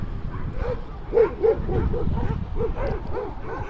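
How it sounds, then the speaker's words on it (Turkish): Several dogs bark in quick repeated yaps as they chase a car through a park, a dense and steady run of barking at moderate distance with no talking. "Köpekler şu an onun peşinden koşuyor."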